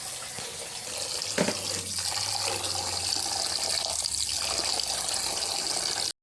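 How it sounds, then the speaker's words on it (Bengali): Meat being washed under a running kitchen tap, a steady, close rush of water splashing into a sink with brief handling knocks, cutting off abruptly at the end. "তো মাংসগুলো এখন আমি ধুয়ে নেবো"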